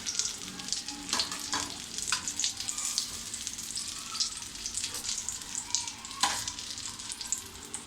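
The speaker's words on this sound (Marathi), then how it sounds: "आपण आपले जे बाकीचे कटलेट आहेत ते आपण असे शॅलो फ्राय करून घेऊया" Chicken cutlets shallow frying in oil, made Parsi style, with a dense continuous sizzle and crackle up close and occasional louder spatters and scrapes of a turner.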